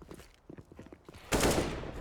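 A rifle shot lands a headshot in a CS:GO match, a sudden loud burst of gunfire that cuts in after quiet footstep-like ticks and rings on for a moment.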